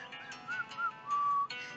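A narrator whistles a short tune in imitation of a dragon whistling in a children's fairy tale, with a few thin, wavering notes ending in one longer held tone, close and fairly quiet.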